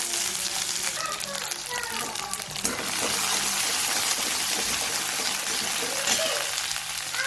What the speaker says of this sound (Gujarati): એમાં જરીક આપણે જીરું નાખીશું. જીરું તતરી જાય એટલે જે આપણે મસાલો વાટ્યો છે વલિયારીવાળો